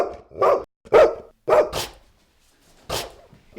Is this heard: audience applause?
no